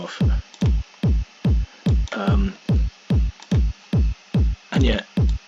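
Hard techno kick and sub bass gallop in Ableton with effects switched off, evenly spaced punchy kicks pounding in a steady loud pulse, with a few faint clicky accents between them and no voices.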